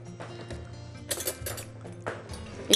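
A utensil stirring eggs and cheese in a bowl for byrek, making light clinks and scrapes against the bowl in a few short bursts, close up and fairly quiet.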